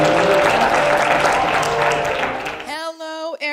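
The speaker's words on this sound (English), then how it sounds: "Let's give her a big round of applause." Audience applause at a real estate agent business event, a dense, loud wash of clapping that fades out after about two and a half seconds, leaving a brief tonal musical sound at the end.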